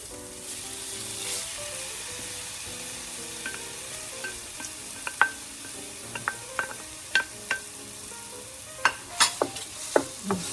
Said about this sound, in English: Now we will add our tofu.